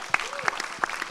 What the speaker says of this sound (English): Can we give that a round of applause, please?